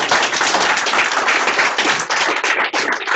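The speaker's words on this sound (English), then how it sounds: "let's all give them a big round of applause." Brief burst of audience applause for students at a spring showcase: many hands clapping close and loud in a dense, steady wash with slight flutter throughout.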